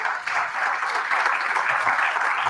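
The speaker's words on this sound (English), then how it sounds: "Give him a big round of applause, brother" Steady applause from a church or community gathering audience, a warm wash of many hands clapping together, moderately loud and unbroken throughout.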